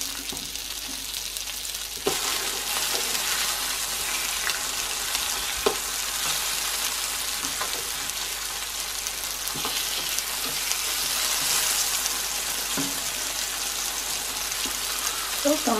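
Tomatoes fry in a pan at breakfast, a loud, steady sizzle with scattered pops and the occasional scrape of stirring, and faint speech now and then underneath.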